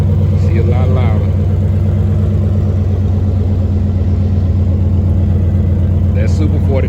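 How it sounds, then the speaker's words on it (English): A Ram 1500 pickup with a Super 44 muffler rumbles steadily and loudly at a low idle, its deep exhaust drone continuous throughout, while people talk faintly over it. "That Super 44 is sounding real good."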